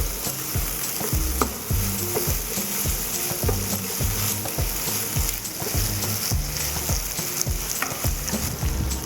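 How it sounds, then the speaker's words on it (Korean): Shrimp and chili paste stir-fried in a hot wok for Char Kuey Teow, a steady sizzle under rapid, rhythmic scraping and tossing strokes, close and continuous. "칠리 길링 1큰술 반을 넣어주고 다같이 볶아줍니다"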